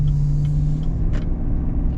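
A 2022 GMC Sierra 1500 pickup with an off-road package drives over bumps, giving a constant loud low road rumble broken by a brief thump or two, with no voices.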